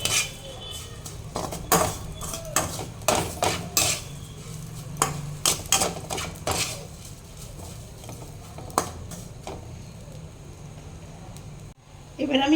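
Spoon scraping and clinking against a pan while onion mixture with spices is stirred for Mughlai paratha, a series of close, uneven knocks and scrapes over faint sizzling that quiets toward the end.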